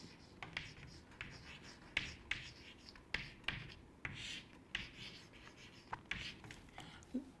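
Chalk or marker writing on a board during a physics lecture, a series of faint, irregular scratchy strokes and taps spread across several seconds in a quiet room.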